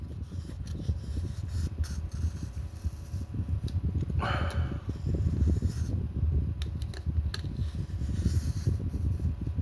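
Cotton rubs back and forth over the gunked, glue-smeared LCD screen of an MPC 2000, a continuous close scratchy scrubbing with uneven strokes.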